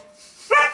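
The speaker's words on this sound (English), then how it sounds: "That's my dog." A single sharp dog bark, close and loud, after a brief quiet moment.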